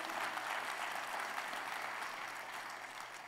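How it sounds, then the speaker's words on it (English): Church congregation applauds a volunteer team, a dense, even wash of clapping heard from a distance at moderate level, fading slightly toward the end. "People on the out team, give these guys a round of applause"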